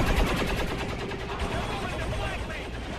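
Rapid gunfire and machine-gun bursts in XCOM 2 combat, a dense, loud, continuous barrage of overlapping shots filling the whole moment.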